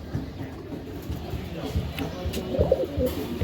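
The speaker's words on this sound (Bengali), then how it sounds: "এইখানে আরেক প্যার হাই ফ্লেয়ার কবুতর আছে ইরানি হাই ফ্লেয়ার কবুতর" Iranian high flyer pigeons give low, throaty coos at close range, steady against a dense, rumbling background with no speech.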